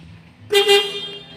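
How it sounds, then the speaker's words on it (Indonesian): A single Toyota Avanza car horn honk sounds suddenly during a service check on a lift, loud and sustained for nearly a second, then fades over a low engine hum. "Pada klakson atau horn"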